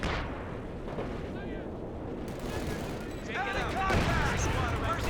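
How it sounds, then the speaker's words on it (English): A heavy mortar strike in Company of Heroes 2 during a close 3v3 battle at a station brings rumbling booms and artillery fire mixed with battle noise, building toward the end while a commentator talks over it. "There's a heavy mortar strike from the officer."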